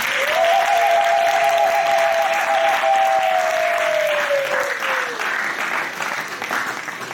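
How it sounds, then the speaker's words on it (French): A church audience at a Christian children's gathering in France applauds loudly and steadily for several seconds, dense clapping with a long high whistle or cheer over it, tapering off toward the end. "Si c'est la joie, acclamons très fort pour notre Seigneur."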